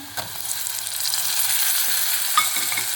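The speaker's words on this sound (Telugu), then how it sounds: "అట్లా ఉల్లిపాయలు అల్లం వెల్లుల్లి పేస్ట్ బాగా మగ్గినాక కట్ చేసుకున్న టమాటో వేస్తున్నాను" Chopped tomatoes go into an onion, ginger and garlic paste frying in a pan, raising a continuous close sizzle with a soft stir and a light scrape partway through, no voices.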